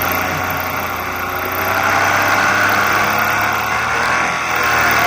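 Engine of a Black Widow powered paraglider trike drones steadily at close range, a loud, even mechanical hum with a slight swell midway and no talking over it.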